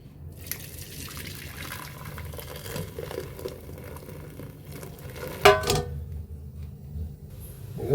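Jaggery syrup trickles and patters steadily through a strainer, with soft dripping, a brief clink near the end, and quiet background noise.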